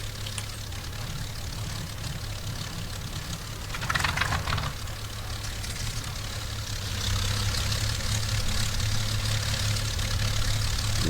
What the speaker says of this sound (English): Very cool startup and fire effects in the engine.